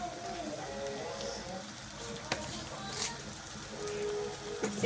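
Curry leaves crackle and sizzle in hot coconut oil in a pan for a Kerala beef fry, a steady close frying hiss with scattered pops throughout.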